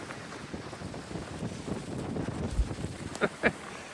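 Wind blowing through the Rhône corridor in a broad, gusting rush against the microphone, steady throughout with a couple of brief sharper knocks near the end.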